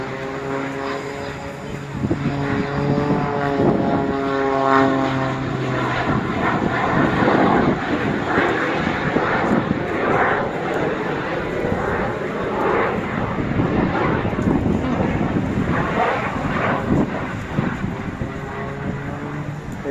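A Jet Pitts Special aerobatic biplane with added jet engines performs at the Eastbourne Airshow, its propeller drone joined by a rushing jet roar that holds steady and loud throughout, with a voice talking over it.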